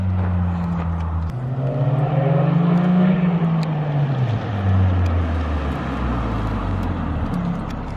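A Toyota Yaris running straight exhaust pipes revs up and settles again, a loud, rising and falling engine drone close by with no talk over it.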